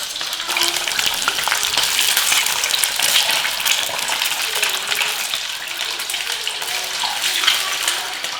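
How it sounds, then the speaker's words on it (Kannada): Boiled eggs frying in hot oil for a garlic egg fry, a loud, steady close-up sizzle with crackling bubbles throughout, no talking. "ಈ ಕಾದಿರೋ ಎಣ್ಣೆಯಲ್ಲಿ ಈ ಮೊಟ್ಟೆನ ಹಾಕೊಳ್ಳೋಣ ಒಂದ್ ನಿಮಿಷ ಇದನ್ನ ಹುರ್ಕೋಬೇಕಷ್ಟೆ"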